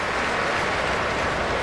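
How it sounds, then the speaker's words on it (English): A dense, steady roar of stadium crowd applause at a 2007 NFL game between the Colts and Texans in Houston, continuous and close for the whole moment with no speech. "Now a round of applause"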